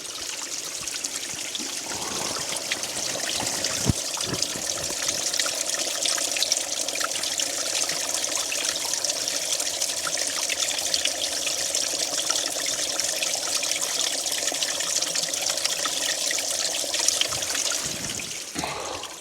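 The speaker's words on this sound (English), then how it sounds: "Straight in that little waterfall there." Water runs steadily into a small waterfall on Sheffield Pike in the Lake District, a continuous close splashing trickle holding at even loudness throughout.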